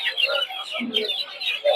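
A crowd of tiger chicken chicks at a poultry market peeping nonstop, their high, thin cheeps overlapping densely and fairly close.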